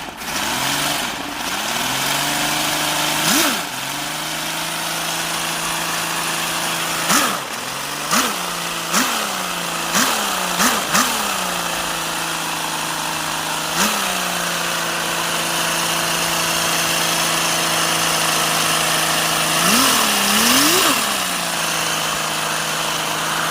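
A small 3D-printed V6 model engine runs steadily at a high idle throughout, with several quick revs and pitch swoops, buzzy and close, with no talking.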